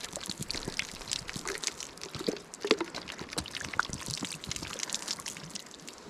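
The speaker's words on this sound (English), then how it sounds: "We're going to wash it off with some clean water." Clean water trickles and splashes while a freshly scaled trout is rinsed outdoors, a soft, steady close pour with small drips and no talking.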